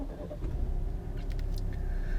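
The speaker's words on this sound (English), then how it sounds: "let's now start up the car" A MY2020 Alfa Romeo Chinese-market Track Limited Edition car runs as it starts up, giving a low, soft, steady engine rumble heard from inside the car with no talk.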